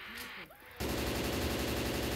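Dense, continuous gunfire from Left 4 Dead 2, in a carnival level, bursts in loudly after a short stretch of quieter game sound and a voice, then runs as a steady rattling fusillade to the end.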